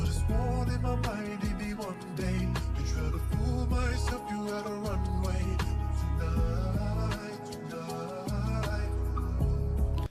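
A full band song, transposed down two semitones, plays continuously with a steady beat, strong bass and layered harmonic instruments, loud and unbroken apart from brief dips in the low end.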